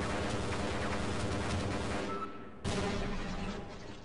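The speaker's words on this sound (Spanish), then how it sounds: "hemos pillado una ametralladora" Sustained bursts of machine gun fire in the Half-Life video game, loud and dense, cut by a short gap before another rattling volley starts.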